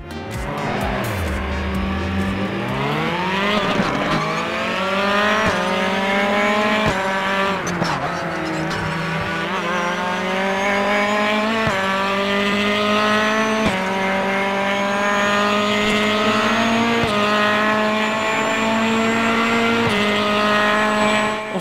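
A race car laps Spa-Francorchamps during a Raceroom qualifying session, its loud, close engine note climbing steadily through each gear with brief dips at the shifts, droning continuously throughout.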